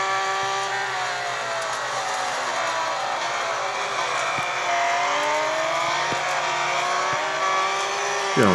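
Porsche 911 RSR race car in a racing video game, its engine droning loud and continuous with shifting harmonic pitch through gear changes and brief rises, with no talk over it.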